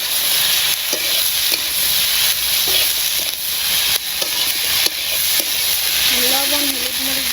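Potatoes fry in hot oil in a village kitchen, with a steady loud sizzle and occasional scrapes and knocks of stirring throughout, and brief voice-like tones near the end.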